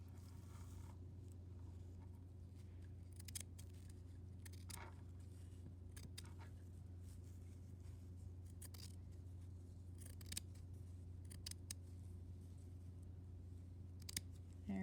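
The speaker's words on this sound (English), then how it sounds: "I'm gonna trim it in half so it'll be shorter. So I'm gonna need some scissors." Faint, intermittent snips of scissors cutting fabric, spaced irregularly over a low steady hum.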